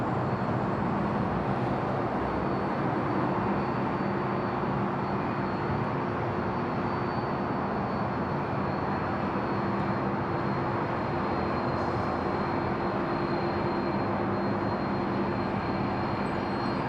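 An airplane landing on runway 34 left at Sydney Airport, heard as a loud, steady broadband roar that holds without a break for the whole stretch, with no voices over it.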